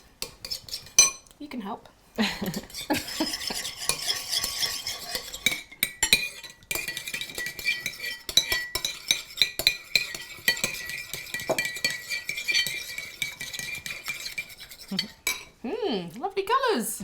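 Spoon clinking and scraping against a bowl while coloured frozen yogurt is stirred and mixed together, with repeated clattering strokes throughout and a brief spoken voice near the start, and a voice near the end.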